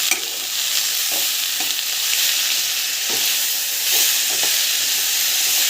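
Mint leaves sauté in a hot pan, giving a loud, steady sizzling hiss with a handful of light spatula scrapes spaced through it and no talking.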